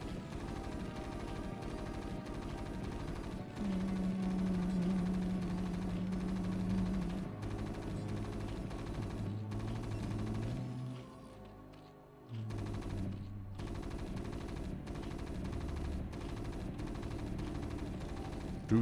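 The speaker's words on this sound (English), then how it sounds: "It's the sound of a simulator getting shot." StarCraft match sounds as marines fire on a simulator: continuous rapid gunfire chatter with game effects and a low drone, steady and moderately loud, briefly dipping before resuming.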